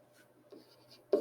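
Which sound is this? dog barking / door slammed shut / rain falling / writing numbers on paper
writing numbers on paper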